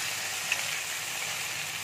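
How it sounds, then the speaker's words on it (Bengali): Onions fry in a pan until browned, a soft, even hiss of sizzling, faint and steady throughout with no talking. "এবার পেঁয়াজটা আমি ভালো করে লাল করে ভেজে নেব"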